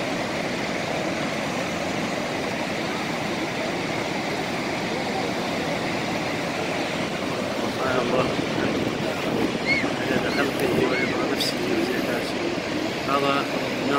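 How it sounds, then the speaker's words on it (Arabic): Broad steady rush of the Niagara River at Niagara Falls, a continuous roar of moving water with wind buffeting, filling the scene from start to end with slight swells late on. "هذا نهر النياجارا"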